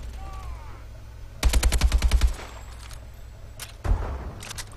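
Rapid burst of AK rifle fire in the shooter game Advanced Warfare, about a dozen sharp reports in quick succession, loud and close, followed by a lone later shot amid faint game ambience.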